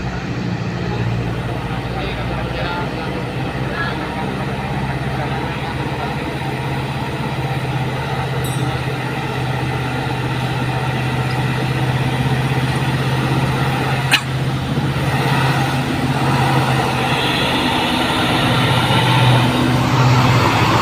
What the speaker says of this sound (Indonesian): Satu unit truk trailer ya teman-teman.